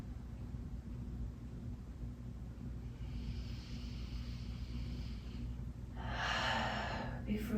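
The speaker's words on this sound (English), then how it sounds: "Few deep breaths here." Slow, deep breathing during a yin yoga stretch class, with a long breathy exhale in the middle and a louder, close inhale near the end, over steady low background hum.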